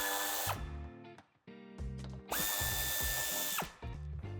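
A power drill whirs in short bursts, removing screws from the underside and wheel arches of an Audi A5 Coupé bumper, spinning up and stopping several times, close and alone.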